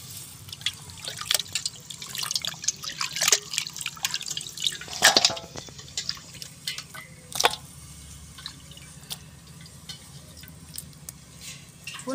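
Raw chicken pieces are washed in water for a dry chicken dish, giving irregular close splashes, drips and sloshing bursts that are loudest early on and thin out into quieter trickles, with no talking.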